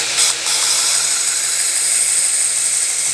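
A belt sharpener runs at roughly 60% of full speed for knife sharpening, giving a loud, steady high-pitched whir with a brief dip near the start and no talking.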